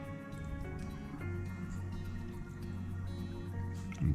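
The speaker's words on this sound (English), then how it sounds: "So let's go ahead and get some water in there." Water is poured into a small solid-base mini snow globe with a Christmas tree inside, making quiet trickling and dripping over a steady low hum, with a brief louder knock at the end.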